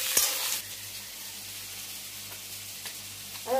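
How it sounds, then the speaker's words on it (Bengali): Onion, potato and tomato fry together in hot oil, opening with a loud burst of sizzling that settles into a steady, softer crackle, with a brief stirring scrape near the end. "পেঁয়াজের সঙ্গে আলু, টমেটোর আম এগুলোও দিয়ে দেবো, যাতে পেঁয়াজ ভাজাভাজি হয়, তার সঙ্গে এই সব সবজিও ভাজাভাজি হয়ে যায়।"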